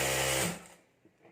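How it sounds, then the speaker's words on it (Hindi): A sewing machine stitching a zip onto a clutch bag whirs loudly and up close for under half a second, then winds down into quiet with a faint click at the end. "यहाँ ऊपर हमें सिलाई कर देनी है"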